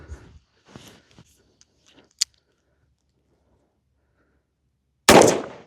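A Chiappa Rhino revolver fired two-handed with 158 grain full metal jacket magnum rounds: one sharp, loud shot bursts out near the end after quiet stretches holding only faint handling clicks.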